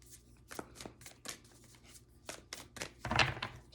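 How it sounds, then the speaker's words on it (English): Tarot cards shuffled by hand in a quiet room, a string of soft, quick riffling bursts with gaps between, building to a louder flurry at the end. "Trying to shuffle it up and break up the energy."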